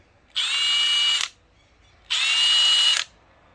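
A Milwaukee impact driver tightening a fastener whirs in two separate bursts close by, each about a second long, pitch starting lower and climbing a little, with quiet gaps between.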